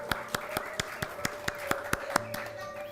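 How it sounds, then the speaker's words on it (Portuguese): A small group claps briefly in a lecture setting, about a dozen sparse, evenly spaced hand claps over a steady background tone, faint and close, with no talking over it. "salva de palmas aí"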